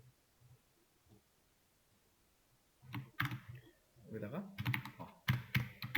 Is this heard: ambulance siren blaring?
no